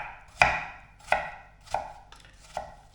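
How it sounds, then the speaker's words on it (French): A knife chops through apple on a cutting board, four crisp evenly spaced strikes, each with a sharp woody knock, close and moderately loud. "il ne te reste plus qu'à prendre tes pommes, un bon couteau ancestral, et là tu les coupes"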